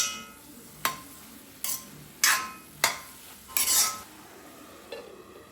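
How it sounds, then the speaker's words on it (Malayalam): A utensil scrapes and clinks against a pan while stirring spinach (cheera) thoran, six separate stirring strokes spaced roughly a second apart, close and clear with a faint sizzle between them and no talking. "ചീരത്തോറിന് ഇടയ്ക്ക് ഇളക്കി ഇളക്കി കൊടുക്കുന്നുണ്ട് കേട്ടോ ഇല്ലെങ്കിൽ അടി പിടിക്കും"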